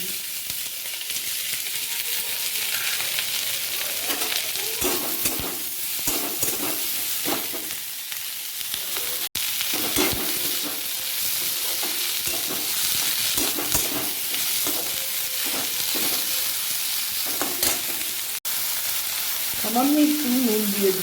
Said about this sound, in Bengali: কড়াইতে তেল গরম করে পেঁয়াজ ও ক্যাপসিকামের ও কাঁচা লঙ্কার কুচিগুলো একটু ভেজে নিচ্ছি।